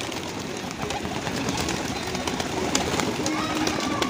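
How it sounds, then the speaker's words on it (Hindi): Pigeons in a fancy pigeon loft coo and rustle close by in a continuous dense flock din, with a person talking over them. "ये देखे माशाल्लाह सारे कबूतर भूखे हैं भाई"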